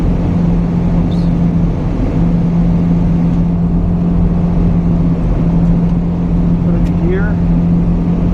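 A Lamborghini Diablo with a heavy old-style clutch and no brake booster drives along, its engine giving a steady, loud, close drone throughout.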